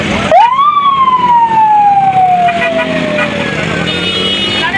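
An ambulance siren wails through heavy traffic, one loud, close, long tone that rises sharply and then slowly falls, over a steady rumble of engines.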